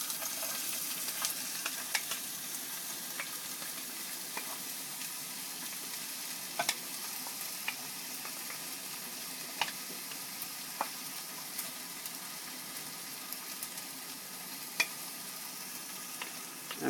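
Onions pushed into hot oil in a pan for Hyderabadi mango chicken crackle in a soft, continuous sizzle, dotted with small sharp pops and scraping taps, fairly quiet and without voices.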